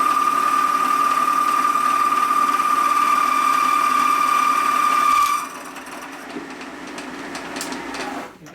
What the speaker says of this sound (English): And the machine's still chattering bad like it started doing a few months ago.